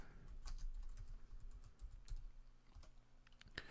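Quiet, sharp clicks from a computer mouse at a desk come in a loose, irregular series, close and faint, with no voices.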